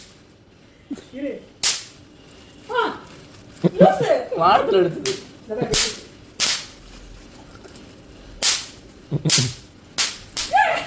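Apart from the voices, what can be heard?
firecrackers exploding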